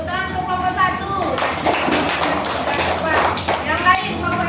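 Children in a classroom clap for a group of classmates, scattered then quicker bursts of hand claps with voices talking over and between them.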